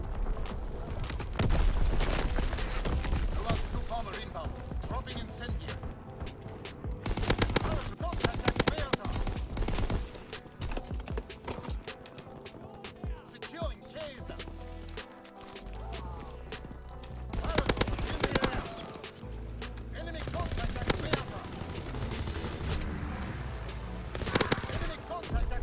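Gunfire in Call of Duty: WW2 on the Shipment 1944 map: dense, loud bursts of automatic fire mixed with heavy booms, rolling on almost without pause.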